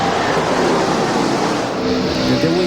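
NASCAR race cars roar past at the Texas DirecTV 500 in 2000, a loud, dense, continuous engine blare with shifting pitch as the field passes close by, crowd noise blended underneath.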